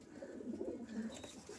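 Giribaz pigeons kept in pairs for sale coo together in low, wavering, overlapping murmurs, moderately close but quiet, with no talk over them.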